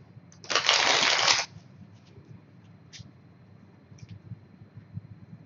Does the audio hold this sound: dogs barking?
no